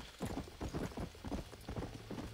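Horse hooves clip-clop in a steady, even trotting rhythm in the video game Red Dead Redemption, moderately close and clear with no talk over them.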